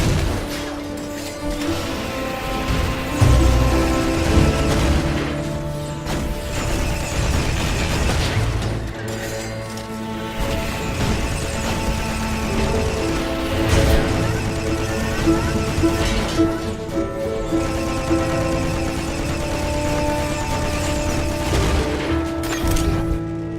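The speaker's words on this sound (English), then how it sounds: "Engaging more missile turrets." Missile turrets firing and explosions in the video game RiftStar Raiders, repeated bursts, pops and booms over a layered music-like backdrop, loud and continuous throughout.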